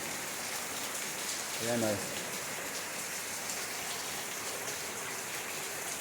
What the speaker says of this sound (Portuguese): Tá vendo? Muita chuva, gente.